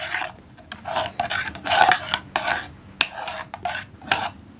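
Homemade soap ingredients being mixed, heard as close, repeated rasping scrape strokes in an irregular rhythm, each a short burst, some sharper clicks among them, with no speech.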